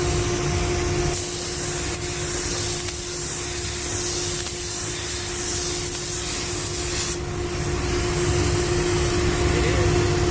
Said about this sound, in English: We ready to spray.